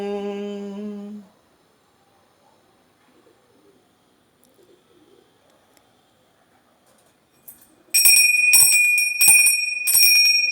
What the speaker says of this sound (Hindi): नंदी बाबा के गले की घंटी है ये